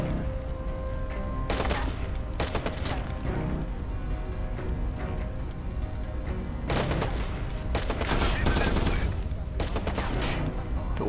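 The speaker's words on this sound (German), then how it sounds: "Wo schießt denn noch einer?" Gunfire in the PC game Watch Dogs during a hotel ambush: bursts of rapid shots and sharp cracks come in clusters, loud and close, with quieter gaps between volleys and some background game noise.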